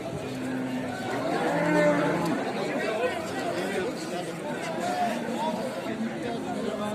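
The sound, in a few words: cows at a cattle market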